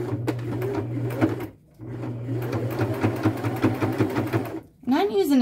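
A sewing machine fitted with a denim needle punches through thick thrifted fabric for a kimono duster: a fast, steady mechanical whirring in two long runs with brief pauses, close and clear, with a voice talking over it.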